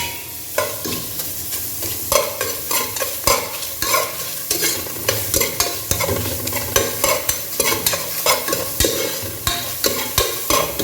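Curry leaves and onions fry in oil in a pan for Ambur mutton biryani, a continuous loud sizzle broken by frequent rhythmic scrapes and clatters of a spatula stirring the pan.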